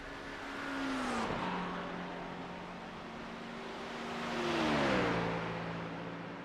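Two race cars, a Ford Mustang and a BMW GT3, battle at Monza in iRacing, their engines swelling past one after another with rising revs and downshifts, moderately loud and without voices.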